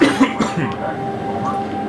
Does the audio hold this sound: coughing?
yes